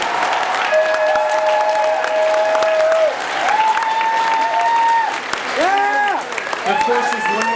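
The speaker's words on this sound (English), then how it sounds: "Let's give them a round of applause" A large arena crowd at a robotics world championship opening ceremony gives loud, sustained applause for mentors, coaches, teachers and parents, with cheering and long tonal horn-like blasts rising over the clapping.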